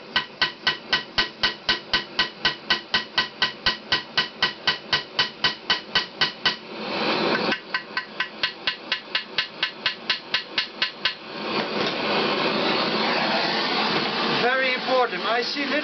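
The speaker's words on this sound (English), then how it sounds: "Give it some tapping with a hammer." A hammer taps rapidly and steadily on a heated CX500 motorcycle engine part, a long run of sharp metallic knocks. After a short pause the tapping starts again, over a constant roaring hiss like a torch flame.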